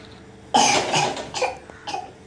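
A child coughs several times in quick succession, close and loud, a short burst followed by two smaller coughs. Context suggests the child may be imitating a cough.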